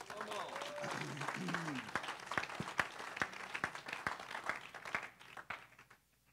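Church congregation clapping after a prayer, a scattered round of claps with sharp individual hits under a speaking voice, fading out toward the end.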